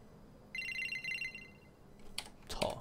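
A phone call rings out in a horror video game, a faint electronic ring tone lasting about a second, followed by soft clicks and tapping sounds.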